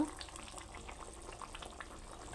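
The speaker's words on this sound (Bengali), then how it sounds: "এটা বলক উঠে গেছে" An egg paneer curry at a steady, bubbling boil in a pot, with soft continuous simmering and faint popping throughout, fairly quiet and without speech.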